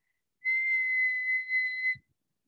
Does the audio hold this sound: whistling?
yes